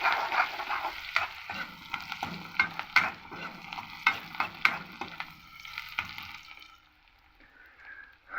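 Onions fry in a pan while a spoon stirs them, giving a busy sizzle dotted with quick clicking scrapes that settles into quieter frying near the end; close and without talk.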